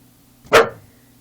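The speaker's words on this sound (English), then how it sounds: "And my dog is barking probably because of the light shining." A pet dog gives a single sharp bark close by, loud and abrupt against an otherwise quiet room.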